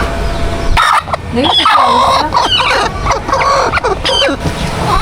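Two brooding hens clucking and squabbling over the same nesting spot, loud and close, with sharp agitated calls and squawks in quick bursts.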